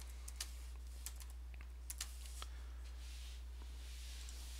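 Quiet typing on a computer keyboard while a SharePoint site is set up, with scattered key clicks in irregular bursts over a steady low hum, no talk.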